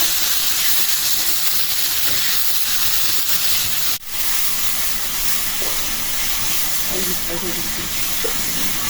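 Steady loud sizzling hiss of ginger frying in a hot pan, continuous throughout with a brief sharp clatter midway and faint voices underneath.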